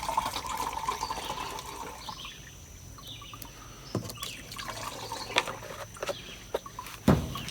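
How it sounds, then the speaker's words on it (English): Liquid kelp poured into water, four ounces added to a nutrient mix for hemp plants, giving a steady soft trickle and splash with faint drips, closing with a few louder drops near the end, with no voices. "Now we're going to go ahead and add our 4 ounces"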